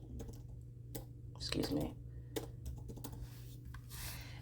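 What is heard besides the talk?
typing a prompt on a computer keyboard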